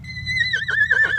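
A mare whinnies loudly and close, a quavering neigh answering a distant paint stallion outdoors.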